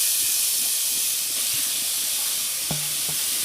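Grated papaya sizzling in ghee in a wok over low heat, a steady, loud broadband hiss filling the whole stretch, with a brief tonal clink near the end.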